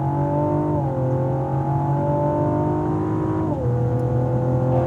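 A turbocharged 2016 Cadillac ATS-V engine drones loudly and steadily under acceleration down a racetrack straight, its pitch stepping through gear changes, with a smooth sustained hum throughout.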